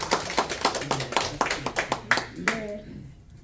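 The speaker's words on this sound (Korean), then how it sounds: "박수 한번 쳐주시면 감사하겠습니다." Scattered claps from a small audience at a Korean presentation for a deer placenta health drink, uneven and irregular, with murmuring voices and laughter-like talk underneath, fading out near the end.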